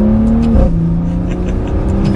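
A 2021 Maserati Levante S Q4 SUV pulls away hard, its exhaust rising in a loud, continuous engine note with a brief gear-change dip, close and steady throughout with no talking.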